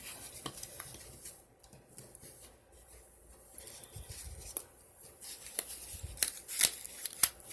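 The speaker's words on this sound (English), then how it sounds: "so now I have all my diapers rolled up" Cloth diapers being folded and rolled up by hand, soft rustling and brushing of fabric with occasional sharper snaps and taps, close and fairly quiet, with no talking.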